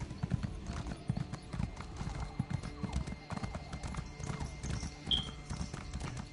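Horse hooves clip-clop at a steady trot in the Elder Scrolls Online video game, rapid, even footfalls heard close and fairly quiet, with a brief whinny near the end.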